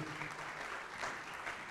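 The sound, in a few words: church congregation applauding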